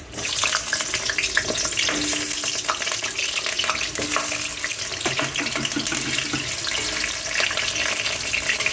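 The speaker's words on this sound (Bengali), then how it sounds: "তেলের উপর আমি আলুটা দিয়ে দিচ্ছি" Potato pieces hit a pan of shallow oil for chicken pilau, giving a steady, dense sizzle and crackle that stays loud and even throughout, with faint stirring clatter and no voices.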